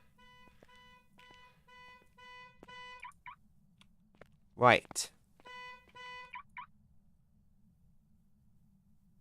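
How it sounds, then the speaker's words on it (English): A car alarm in The Long Drive video game sounds repeated electronic beeping tones in short rhythmic bursts at moderate volume, broken by a brief loud burst, with a voice speaking briefly. "So the car alarm's going off"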